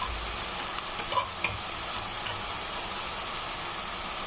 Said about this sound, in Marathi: या तिळाला पण पूर्ण असं फ्राय करून घ्यायचं आहे।